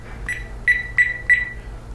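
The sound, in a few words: ThermoWorks ChefAlarm cooking thermometer alarm beeping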